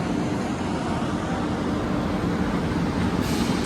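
A train pulling into Sakleshpur station produces a dense, steady rumble of wheels and carriages, loud and close throughout with no voices over it.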